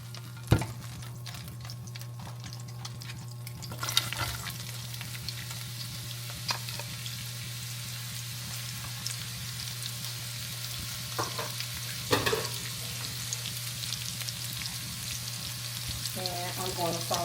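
Onions saute in a small amount of oil in a pan, giving a quiet, steady sizzle with occasional stirring clatters and brief utensil knocks, faint and close throughout.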